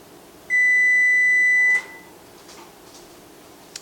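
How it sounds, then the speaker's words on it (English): A kitchen timer gives one loud, sustained electronic beep lasting just over a second during home bread baking, followed by a quiet room. "My timer is actually getting ready to go off right now."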